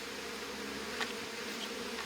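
Overwintered honey bees buzzing during a post-winter hive inspection, a steady close insect drone with no talk over it.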